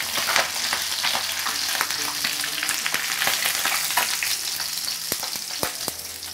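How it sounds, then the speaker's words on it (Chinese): Yellow croaker fish pan-fries in hot oil with a loud, dense, continuous crackling sizzle and scattered sharp pops, close up and with no voices. "黄鱼下锅的时候先不用去动它，让它煎至定型以后，我们再反面煎一下。"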